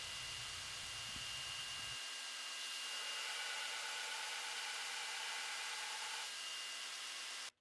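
A bench grinder grinds relief around the working end of a steel blacksmith's touchmark punch, a steady close hissing whir with a low rumble at the start, then a sustained bright grinding tone that cuts off abruptly.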